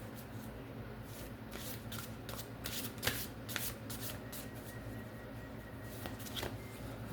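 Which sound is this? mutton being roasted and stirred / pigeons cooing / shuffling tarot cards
shuffling tarot cards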